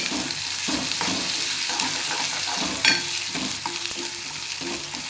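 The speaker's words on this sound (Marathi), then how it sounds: "आता अद्रक आणि लसूण ठेचलेलं आहे ते टाकून घेऊ आपण. आता परतून घेऊ छान." Crushed ginger and garlic sizzle steadily as they are sautéed and stirred in a hot pan, a continuous frying hiss with soft scraping strokes and one sharper clatter midway, no voices.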